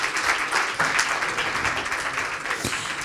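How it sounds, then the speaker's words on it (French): A conference audience at a corporate oncology partnership event claps steadily for an arriving guest, a dense, even wash of applause that holds at a constant level for about three seconds. "sous vos applaudissements."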